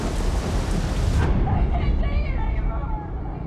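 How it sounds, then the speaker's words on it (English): A thunderstorm pounds the Amazon rainforest at night, with a deep, loud rolling rumble of thunder over dense, steady rainfall that eases slightly as the roar fades. "The storm has shaken Crystal to the core"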